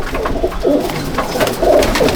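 Pigeons coo in a loft at Jangipur, Murshidabad, giving several soft, rolling low calls close by, one after another over a quiet background.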